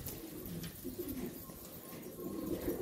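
Pigeon cooing during a bird hunt outdoors, soft low coos repeating faintly and intermittently over a quiet ambient background.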